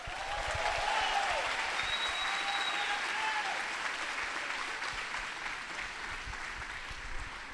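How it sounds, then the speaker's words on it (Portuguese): A church congregation applauds loudly and continuously, dense clapping with faint cheering traces, slowly easing off over several seconds. "Então eu quero que vocês deem uma salva de palmas ao Senhor"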